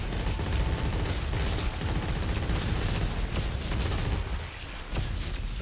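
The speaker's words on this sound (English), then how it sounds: "Machine gun, motherfucker." Dense, sustained automatic gunfire from a machine gun in the co-op shooter Dead Space 3 rattles on without pause, loud and close, with no speech over it.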